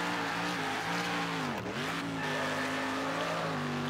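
A car in the racing game Wreckfest drones at steady engine pitch, then dips sharply as a handbrake skid with tire squeal cuts in, before the engine note recovers, loud and continuous throughout.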